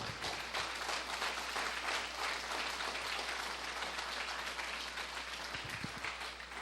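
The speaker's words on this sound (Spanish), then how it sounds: "dele aplausos fuertes al Señor de señores" A church congregation applauds loudly and steadily throughout, dense clapping filling the room with no break and no voices standing out.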